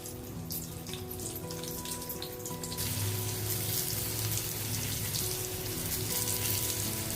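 Okra (bhendi) frying in hot oil, a steady broadband sizzle that grows louder and denser partway through, with a low background hum and no talking.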